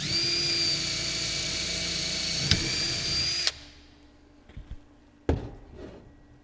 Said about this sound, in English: you'll use a 1/4-inch drill here and just drill through this hole